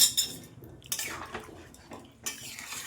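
Water poured into a pot of fish curry with bata fish and prawns, short splashing pours and a metallic clink of the pot, close and fairly quiet, no talking.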